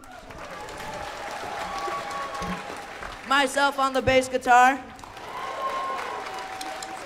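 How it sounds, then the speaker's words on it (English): Brief burst of audience clapping at a middle school holiday concert, about a second and a half of applause following and preceding a person speaking into a microphone. "let's have a round of applause for Henry on the drums"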